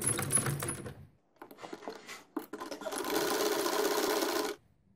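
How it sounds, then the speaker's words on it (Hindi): Domestic sewing machine stitching a small baby pajama trouser from leftover fabric, a short burst of running stitches, a pause with light handling clicks, then a steady longer run of stitching close by before it stops. "ये देखिए, मैं अब इसको सिलाई करने लगी।"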